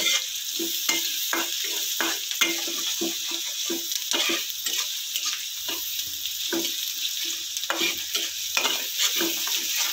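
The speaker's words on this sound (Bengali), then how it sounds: "তেল গরম হওয়ার পরে দিয়ে দিলাম তোমার পেঁয়াজ কুচি, তারপরে এগুলোকে একটু বাদামি করে ভেজে নিলাম।" Chopped onions fry in hot oil until brown, with a steady bright sizzle and frequent quick scraping strokes of a spatula stirring close by.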